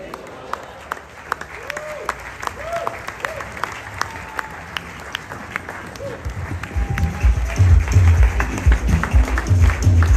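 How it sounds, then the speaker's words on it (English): Applause from a seated audience at a church cell leaders' meeting begins sparse and scattered, then builds into louder, denser clapping over the final seconds. "A round of applause for him."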